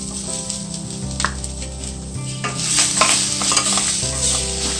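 Chettinad crab masala with coconut sizzling and frying in a pan while being stirred, loud and steady with scraping strokes, no talking.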